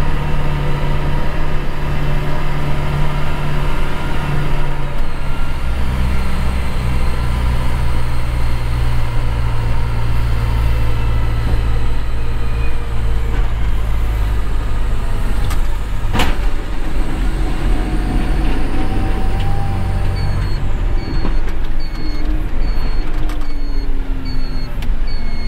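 Lindner Unitrac 112 LDrive tractor on winter road service: a steady, loud engine drone runs throughout from inside the cab, with shifting low rumble and faint mechanical whines.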